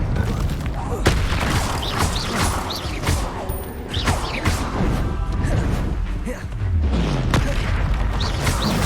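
Spell blasts such as Bombarda and Confringo in the video game Hogwarts Legacy, with repeated booming impacts and crashes in a busy battle mix, and voices calling out spells throughout.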